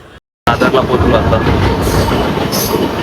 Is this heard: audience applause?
no